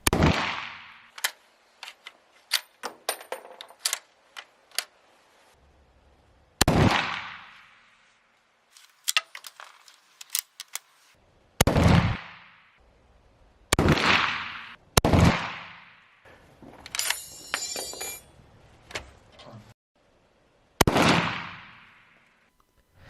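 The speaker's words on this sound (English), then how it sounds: "He fired 6 rounds on the left target and 12 on the right one." Rifle shots fired one at a time at a target 50 meters away: a series of sharp, loud cracks with pauses of varying length between them, each followed by a short ring, and quieter clatter in the gaps.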